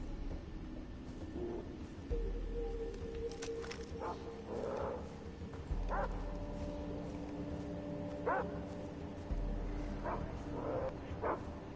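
Several dogs bark in the video game Far Cry 3, with repeated barks and yips spaced through a steady game ambience, fairly close and clear.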